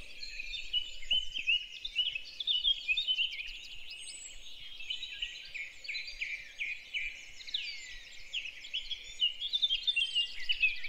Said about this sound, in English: blackcap with its scratchy but very beautiful song, singing out